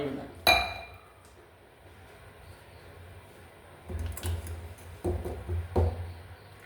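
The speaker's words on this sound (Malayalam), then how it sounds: "ഒരു ഗ്ലാസ് എടുത്തപ്പോൾ രണ്ട് ഗ്ലാസ്" A sharp glassy clink near the start, then softer knocks and clatter of glass and kitchenware, with quiet background sound between.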